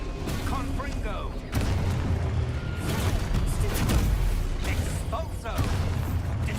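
Fiery spell blasts and impacts boom through a Hogwarts Legacy fight, several bursts and crashes one after another amid clattering combat, over game music.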